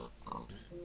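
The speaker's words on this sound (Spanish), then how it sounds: "Mira, más cerdos, tío." Pig oinks from the video game Minecraft, a couple of short grunting calls over faint game background sound.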